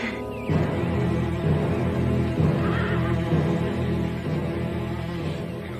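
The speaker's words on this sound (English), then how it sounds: "Cut the horses loose, Brewster." Horses neigh and whinny in a Western outdoor scene, with hoof clatter and movement mixed in; several loud, close calls rise over a busy, continuous backdrop with no talk.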